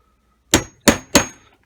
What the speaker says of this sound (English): tap it a couple of times with the hammer.